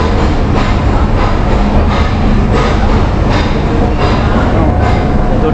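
Nilgiri Mountain Railway toy train at an Ooty station, a steady loud rumble of wheels and carriages rolling on rails, with faint rhythmic clatter throughout as it pulls in.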